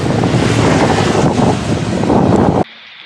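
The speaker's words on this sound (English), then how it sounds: "Okay, we're not laughing at this rain anymore." Heavy rain pounds down during a bike ride, a loud, dense, steady roar of downpour mixed with rushing wind that cuts off abruptly near the end, leaving a much quieter hiss.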